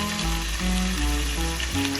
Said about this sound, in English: We need to hear that sizzle.